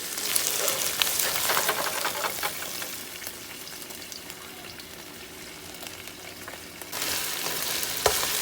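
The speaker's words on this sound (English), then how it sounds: "Cooking these onions." Onions frying in a pan alongside turkey burgers, a steady close sizzle with occasional stirring clicks, slightly louder at the start and end, no talking.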